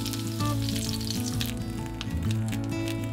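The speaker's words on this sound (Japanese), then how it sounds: "片栗粉小さじ1を薄くまぶしながら揚げ焼きします" Food lightly dusted with a teaspoon of potato starch shallow-frying in a pan, a steady dense sizzle and crackle throughout, close and fairly loud, with soft background music playing under it.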